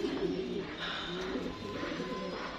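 A hen pigeon of a racing loft, silver-necked with black wings, coos softly nearby, a run of low throaty warbles repeating through the clip over faint background noise.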